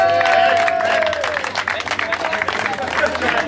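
Applause at a PRENGO CUP 2013 tournament award ceremony, a dense, steady wash of clapping and crowd noise filling the room, with a voice carrying over it.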